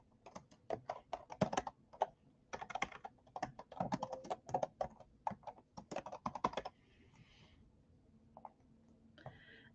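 Rapid bursts of typing on a computer keyboard, close and fairly loud, with uneven clusters of key clicks for about seven seconds, then a quieter stretch with a few light clicks and faint background sounds.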